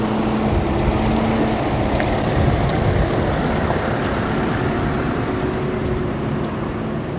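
A continuous low engine drone, like a tractor running steadily nearby, with a constant rumble and faint background noise, no voices.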